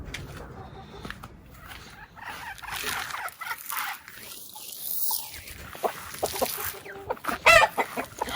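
Chickens clucking nearby, with scattered bursts of clucks and calls over a background hiss, growing busier toward the end.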